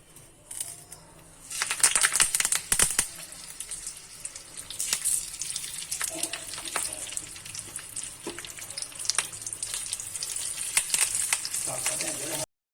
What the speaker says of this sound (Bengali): কড়াইতে অল্প সাদা তেল দিয়ে দিয়েছি। এবার আমি মাছগুলো একে একে দিয়ে দেব।